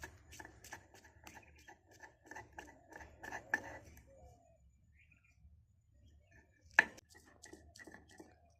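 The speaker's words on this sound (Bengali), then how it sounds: "লঙ্কা দুটো দিয়ে দিলাম এখানে লবণ দিয়ে দেবো ভালো করে বেটে নিচ্ছি" Green chilies and salt are ground on a stone. Quick rhythmic scraping strokes come in a run, then pause, with one sharp knock later and faint background bird cooing.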